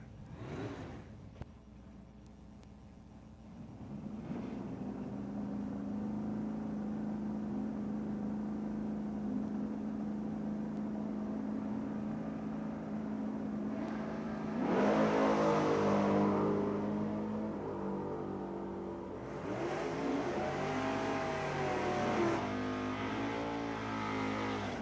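Drag racing cars, including a Camaro, launch and accelerate hard down a strip; engines rise to a loud, sustained roar that builds, swells again as they pass, and shifts pitch near the end.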